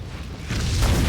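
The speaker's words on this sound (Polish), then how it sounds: "The building's blowing up." A building packed with explosives blows up in Max Payne 2, a sudden deep boom swelling into a loud, sustained rumbling roar that holds through to the end.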